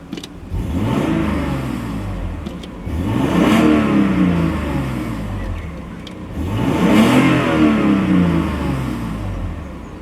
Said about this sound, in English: I do like the sound of a straight six.